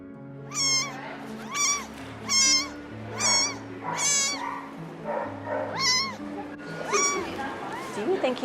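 Rescued kitten Buddy meows loudly and repeatedly, about eight distinct rising calls at a steady rhythm, close by, with a low hum and soft background sounds between them.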